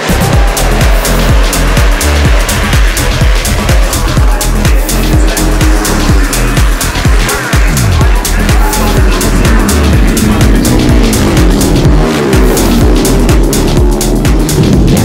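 Flat track race vehicles racing at a long-running oval event in Maryland, with a loud, dense and continuous engine roar of many machines and rising and falling revs throughout.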